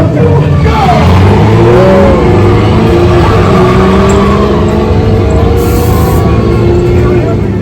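Ride cars rumble and accelerate on the Radiator Springs Racers attraction at Disneyland, a loud continuous roar of engine sound effects and wind throughout, with crowd and voices mixed underneath.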